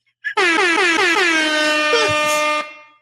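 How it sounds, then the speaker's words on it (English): A loud air horn blast with a stuttering, pulsing start that settles into one long sustained blare for about two seconds, then cuts off. "There, some air horns."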